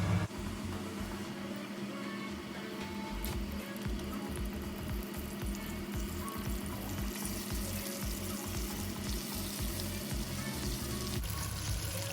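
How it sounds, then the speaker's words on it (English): Chicken karaage pieces fry in hot oil, producing a continuous, steady bubbling sizzle that stays even throughout, with faint kitchen clatter in the background. "I'm actually gonna fry them 3 times."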